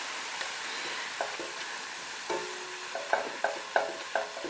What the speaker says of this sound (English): So now the salad is nicely sizzling away